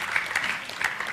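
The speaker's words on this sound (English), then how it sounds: "So a round of applause for our gentlemen who are here to help us." Light scattered applause from a conference audience at a women's leadership forum in Africa, soft and somewhat distant, with a few louder claps standing out.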